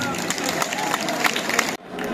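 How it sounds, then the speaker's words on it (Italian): A festival crowd applauds volunteers at the S'Orrossa 'e Padenti celebration in Seulo, Sardinia. Dense, loud clapping runs steadily for nearly two seconds, then cuts off abruptly to a quieter murmur. "E un applauso dai a tutti questi volontari che ci hanno dato una mano."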